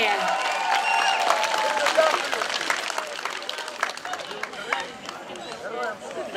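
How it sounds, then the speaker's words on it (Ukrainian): Audience applause for a girl in a wreath and embroidered shirt at a Trinity holiday celebration, scattered close claps mixed with crowd babble and children's voices, uneven and lively throughout. "Роксолана, оплески Роксолані!"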